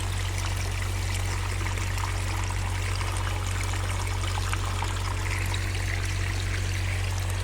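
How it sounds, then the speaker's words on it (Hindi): Water streams and pours steadily at a sewage treatment plant beside a drain outflow near the Ganges in Rishikesh, over a constant low mechanical hum of the running plant, a continuous broadband rush heard close and alone. "आवाज़ भी आ रही होगी आपको उसके ट्रीटमेंट प्लांट के चलने की।"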